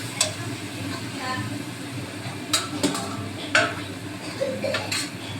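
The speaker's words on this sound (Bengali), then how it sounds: "এবার মশলাটাকে ভালো করে কষিয়ে মশলা থেকে তেল ছেড়ে দেবে।" Ginger-cumin paste fries in hot oil in a pan while a spoon stirs and scrapes against the metal, a steady close sizzle broken by occasional clinks and knocks.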